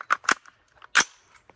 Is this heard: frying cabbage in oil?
no